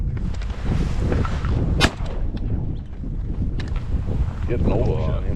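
A shotgun fires during a duck hunt in South Dakota, one sharp loud report cutting through steady wind buffeting and people talking nearby.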